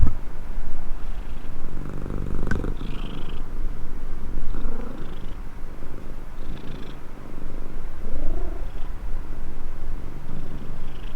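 A cat purrs steadily up close, a low continuous rumble with a soft rhythmic pulse, occasional faint rustles and a brief click partway through.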